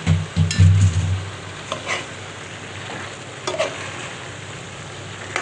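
Ash gourd and lentils stirred in a frying pan, a few close scraping spatula strokes at the start followed by a steady low sizzle with occasional scrapes.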